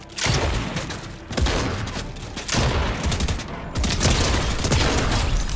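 Gunfire in a first-person shooter video game: four loud, rapid bursts of automatic fire, each lasting about a second, with short gaps between them.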